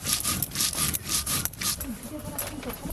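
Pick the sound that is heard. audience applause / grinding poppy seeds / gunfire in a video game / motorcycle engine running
grinding poppy seeds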